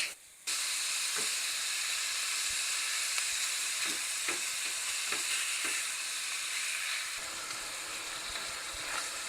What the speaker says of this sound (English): To that, I'm going to add 1 pound of ground beef.